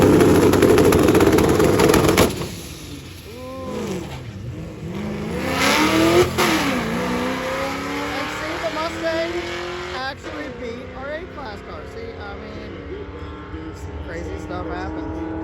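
Drag racing cars, including D-class cars such as a Mustang, launch and roar down the strip at a drag week event with NASCAR entries. Loud engine revving swells and fades over roughly six seconds, with gear-change dips and crowd noise underneath.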